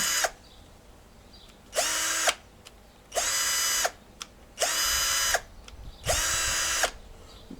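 A Vitals 18-volt cordless drill/driver whirs in four short bursts of about half a second to a second each, separated by pauses and faint clicks, running close and at a steady pitch as its speed settings are tried.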